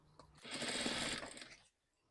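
A sewing machine runs in one steady burst of stitching, sewing cord piping into folded fabric, close and fairly loud for about a second before stopping into quiet.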